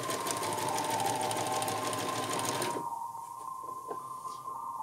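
A domestic sewing machine stitches a seam on a costume, running steadily and loudly for close to three seconds, then stopping, leaving quiet room tone with a faint hum and a couple of small handling clicks.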